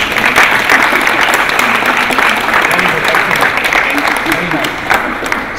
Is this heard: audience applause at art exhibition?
yes